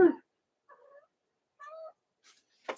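A house cat meows indoors: a sharp call, then two short quiet mews and a final brief cry, separated by near silence.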